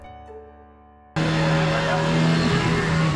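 Speed boat spinning through a full 360-degree turn on a lake at Tapola: a quiet stretch snaps into a loud, sustained engine roar with a rising whine that holds steady through the end.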